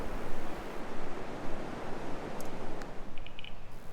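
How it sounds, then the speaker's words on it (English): Winter surf on the beach at Cape Conran, a steady broad wash of breaking waves with gusty wind noise on the microphone, close and continuous, with a couple of faint brief chirps near the end. "we're taking a morning walk on the beach"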